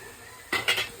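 A lid set over a pot of coconut curry simmering on low heat: two quick metallic clanks in close succession against a quiet kitchen background.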